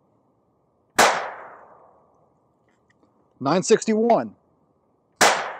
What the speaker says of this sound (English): I get a baseline by putting six rounds through the normal 22 long rifle cylinder